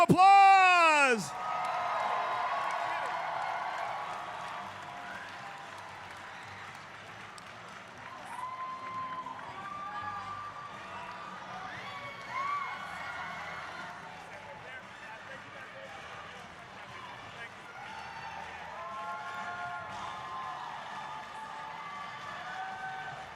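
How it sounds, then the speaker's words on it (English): An audience at a cosplay championship stage event applauds and cheers for the cosplayers, sustained clapping with whoops and shouts under a host's amplified voice, following a loud opening burst. "One more time, give all of our cosplayers a huge round of applause."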